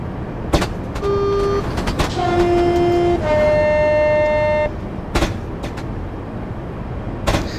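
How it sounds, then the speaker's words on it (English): Electric train coasting in Train Simulator 2015 on the London St Pancras International route, a steady rail rumble carrying sustained horn-like tones that hold for a few seconds, with brief sharp clunks before and after. "I am just going to allow the train to continue to coast"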